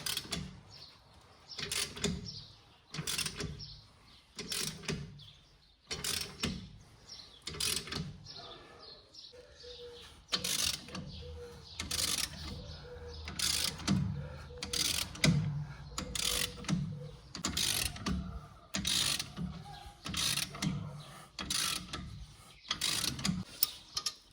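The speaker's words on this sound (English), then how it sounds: "So now we are pressing the wheel hub, the wheel bearing back in the hub." VW Transporter T5 wheel bearing pressed into its hub, producing a steady series of mechanical ratcheting clicks roughly once per second, about two dozen in a row, fairly close and distinct.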